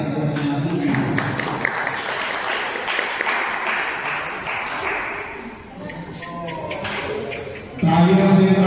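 Audience applause welcoming a GST deputy commissioner onto the stage at a public event in Mandi Dhanora, Amroha, sustained dense clapping throughout, with a voice speaking over it near the end.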